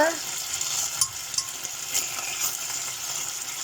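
Sausages frying and sizzling in a very small casserole pot, a steady close hiss with a few light stirring clinks and scrapes, no talk.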